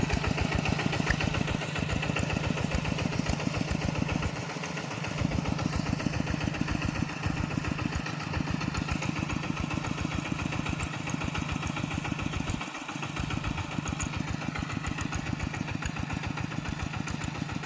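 A tractor engine plowing a wet rice field drones steadily and loudly throughout, a rough mid-pitched idle-like rumble with a regular chugging pulse, briefly dipping twice.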